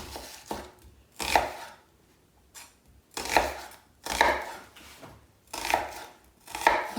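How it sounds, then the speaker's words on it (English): A knife slicing through an onion on a cutting board, with the sides held together, in repeated close bursts of crunchy strokes separated by short pauses, with no voices over them. "You see how I'm cutting it?"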